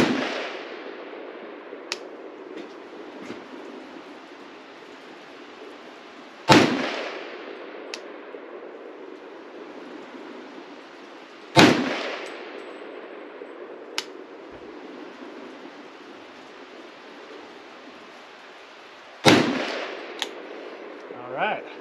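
A Palmetto GF5 AK rifle fires during accuracy testing: three loud, sharp shots spaced several seconds apart, each trailing off into a long rumbling decay, with a few faint clicks between them.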